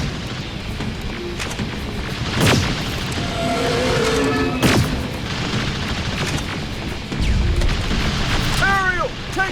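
A loud rocket blast erupts in Terminator: Resistance, with a couple of heavy booms and explosive impacts set against combat noise and voices shouting.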